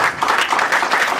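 A book launch audience applauds, a brief, dense burst of many hands clapping close by.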